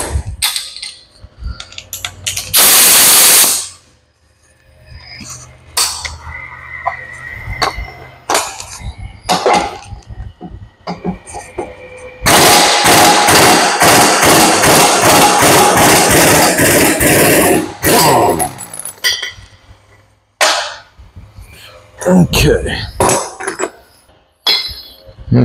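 A 3/4 inch impact wrench rattles in loud bursts while removing the piston nut from a Hyster forklift tilt cylinder, with clanks of metal parts and tools between the runs.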